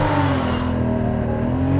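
A 2013 Porsche Boxster S accelerating hard off the line under launch control, loud close engine roar with rising pitch, heard alone.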